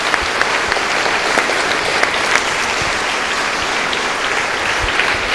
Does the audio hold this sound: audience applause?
yes